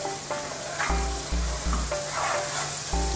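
Aubergine and other vegetables for a cumin stew fry in a pan with a constant bright sizzle. Several louder bursts of crackling come in quick succession, and no one speaks.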